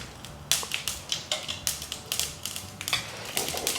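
A teaspoon of mustard seeds pops in hot ghee in a pan for a dal curry, giving irregular sharp crackles and snaps in quick clusters, close and fairly loud over a low background hum.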